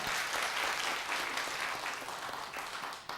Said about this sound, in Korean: 박수 한번 더 치십시다.